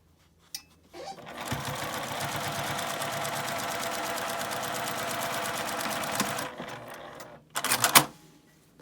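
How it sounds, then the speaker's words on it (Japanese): A sewing machine back-stitches the seam of a tote bag, running in one steady, close buzzing stretch of several seconds, then giving a couple of short bursts after a pause. "しっかり返し縫いをして"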